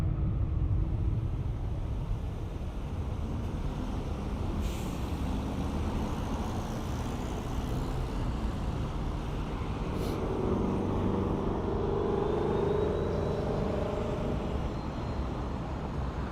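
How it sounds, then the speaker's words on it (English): Road vehicle traffic passing near Toronto airport, a steady low rumble of cars and trucks that swells and fades over several seconds, with a faint distant higher whine. "My apologies for the vehicle traffic."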